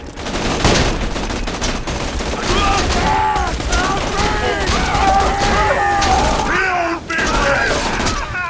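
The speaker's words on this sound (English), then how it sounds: "actually using a shotgun that shoots fire" A fire-shooting shotgun in Borderlands 2 fires in a dense, sustained stretch of blasts, layered with busy game effects and tonal sounds that persist without a break.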